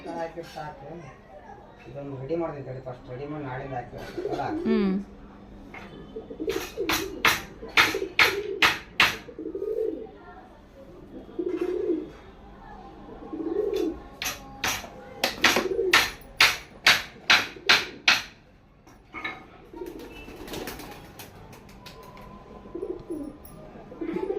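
Soft coos from domestic pigeons kept at home repeat through the clip with short bird chirps, fairly close, and faint voices in the background.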